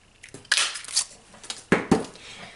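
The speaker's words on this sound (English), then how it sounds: "I'm just going to punch both of these out" A 3/4 inch paper punch punches shapes out of cardstock, giving a few sharp, close crunching clicks spaced irregularly over a quiet background.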